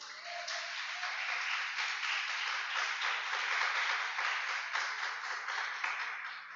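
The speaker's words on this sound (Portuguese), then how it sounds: "Se você crê, aplauda o Senhor" A church congregation claps during a worship service, producing a steady, even wash of applause that holds at moderate loudness throughout with no voices standing out.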